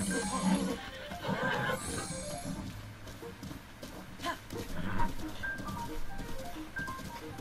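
Wild horses in The Legend of Zelda: Breath of the Wild whinny and snort over a busy game soundscape, the calls rising and falling at moderate distance.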